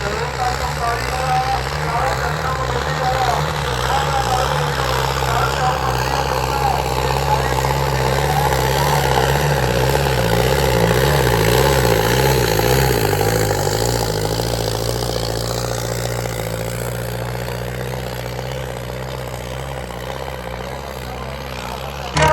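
A faulty tractor engine strains to pull a trolley during a village trolley-pulling contest, a loud continuous droning rumble with slowly shifting pitch that eases slightly toward the end.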